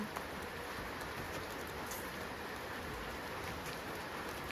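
Steady rain falls in a dense, even patter over the whole stretch, a close hiss of drops on surfaces with no speech and a faint bird call somewhere behind it.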